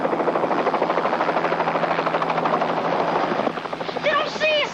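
A helicopter's rotor thumps in a fast, steady beat close by, then a voice cuts in briefly near the end.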